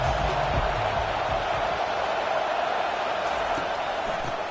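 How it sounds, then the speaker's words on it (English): A stadium crowd at an Auburn versus Utah college football game roars in a sustained, dense wash of noise trying to inspire the defense, distant and continuous. "And here comes the noise. This crowd is trying to inspire this defense to make a big red zone stop."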